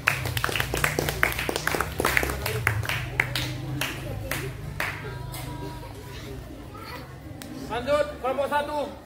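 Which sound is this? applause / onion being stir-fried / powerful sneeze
applause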